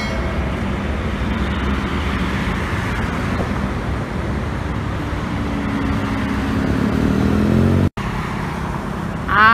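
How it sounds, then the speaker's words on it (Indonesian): Buses and cars streaming past on the Jatingaleh toll road in Indonesia in the morning, a loud, steady roar of engines and tyres with rising and falling pass-bys, no talk. "Mau lihat bus-bus yang berangkat pagi dari Jakarta."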